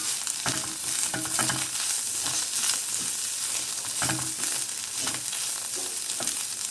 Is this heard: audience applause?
no